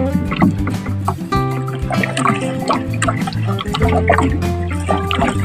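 Water sloshes and drips around a small fishing boat heading out to sea as paddles dip rhythmically, with steady nearby splashing and no talking.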